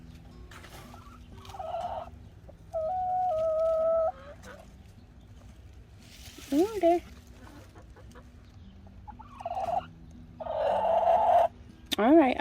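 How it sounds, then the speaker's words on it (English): Chickens cluck and make drawn-out, wavering calls in short bursts close by, with a person speaking briefly between them. "What y'all chickens doing?"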